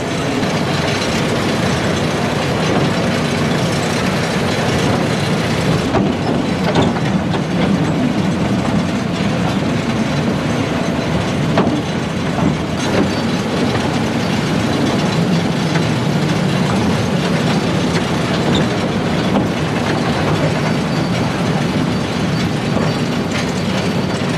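A toy train runs at the Howrah Rail Museum, producing a continuous loud rumble with steady clattering and ratcheting mechanical noise from wheels and track, close and unbroken.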